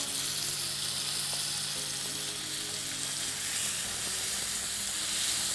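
A rib eye steak sears in a hot pan with a steady, close, dense sizzle that holds evenly throughout, with no voices over it.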